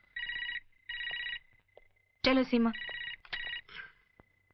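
A landline telephone rings indoors at home in short bursts of electronic trilling, two rings early and more later, with people talking in between the rings.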